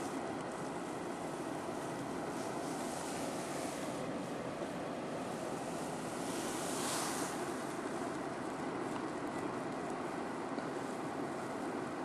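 Strong high-tide sea waves hitting the quay at Rimouski, a loud, steady wash of surf and wind with a swelling surge near the middle and no talking.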